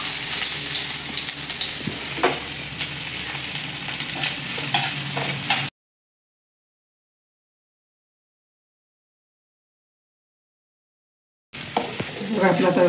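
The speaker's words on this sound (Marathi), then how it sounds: "आता रश्याचं आपण लसूण आणि आलं भाजून घ्यायचं." Garlic and ginger roasting in a hot pan, a close crackling sizzle with stirring scrapes, cut off by a stretch of dead silence before the frying noise briefly resumes.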